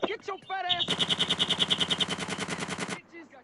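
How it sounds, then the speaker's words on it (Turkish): Rapid automatic gunfire from a GTA San Andreas mobile gang fight rattles in a fast, even burst lasting about two seconds, with shouting voices just before and a trailing call after. "Oo adamlar pompalarıyla Uzi ile geliyor."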